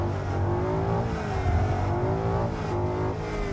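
Ford Mustang GT V8 engine pulling hard on the Anglesey race track, a loud continuous roar that climbs in pitch as the car accelerates, with no voices.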